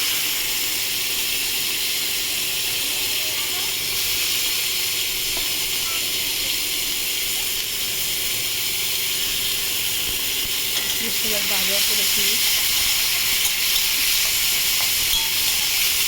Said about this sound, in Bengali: কালো জিরা দিয়ে দিলাম, কুচি করে রাখা পেঁয়াজ দিয়ে দিলাম।